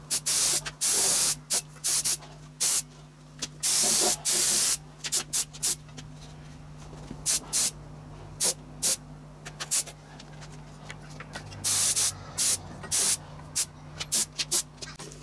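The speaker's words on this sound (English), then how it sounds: "I'm using a two-pack black gloss for the top coat." Two-pack black gloss top coat is spray-painted outdoors on a still day, heard as repeated close bursts of hissing spray that start and stop in short and longer passes, with quiet pauses between.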